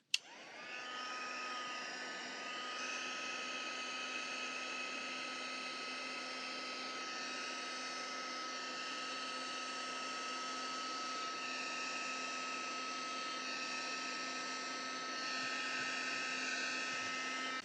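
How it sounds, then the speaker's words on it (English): A small heat gun blows continuously over resin, a steady whirring hiss with a constant tonal motor whine and faint hum, fairly quiet and unchanging throughout without any talking. "now I'm going to use my little heat gun to push the white out"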